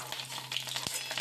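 Balls of rui fish roe frying in oil in a pan, a close, steady crackling sizzle with fine popping spatters and a low hum underneath.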